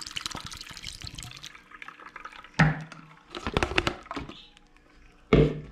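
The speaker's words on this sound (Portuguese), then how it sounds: "Colocar mais água." Water poured into a sour mixture beside a wood-fired oven: several short splashing pours and glugs come in bursts with pauses between, close and fairly loud.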